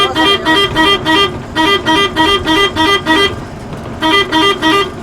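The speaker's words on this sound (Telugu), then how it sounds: "ఇలా ఒక బండే వస్తుంది ఇంకో బండి రాదు" A vehicle approaches along a narrow single-lane road in Maharashtra, its horn tooting in a steady, rapid pulsing pattern, loud and close, with engine rumble underneath.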